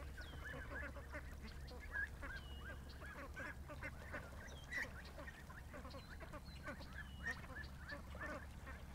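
A flock of ducks quacks and honks steadily at a distance outdoors in a yard at night near a creek, over a constant low electrical hum.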